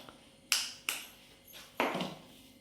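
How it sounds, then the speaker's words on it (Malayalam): Three or four sharp cracking taps, spaced unevenly and close by, as two eggs are knocked and broken into a cup, with no talking. "ഒരു കോപ്പ് എടുത്തിട്ട് അത് 2 മുട്ട പൊട്ടിച്ചിട്ട് കൊടുക്കാം."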